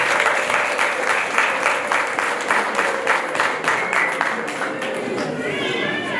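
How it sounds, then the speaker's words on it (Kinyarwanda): Wedding guests clapping, loud and sustained applause from a close crowd with rhythmic bursts, easing slightly toward the end. "ndongera mbasabe mwongere muyamuhe"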